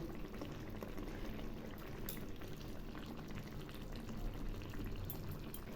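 Puti fish curry bubbling at a steady low simmer in a cooking pot, with soft continuous boiling and faint popping heard close but quietly, no talk.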